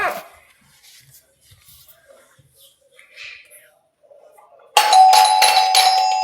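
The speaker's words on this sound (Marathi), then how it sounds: "आणखी बेल वाजली" A doorbell rings loudly and abruptly after a stretch of near silence with faint rustles, its bright tones sustained to the end.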